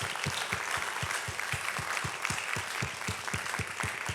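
A church congregation claps together in steady, rhythmic applause. The clapping is even and sustained, sounds moderately distant in the room, and carries no voices.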